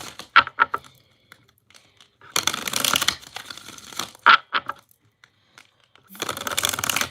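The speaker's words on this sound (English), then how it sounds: "I'm going to do 3 shuffles." Tarot cards being shuffled by hand in three bursts of crisp riffling and crinkling, close and fairly loud, separated by quieter handling taps.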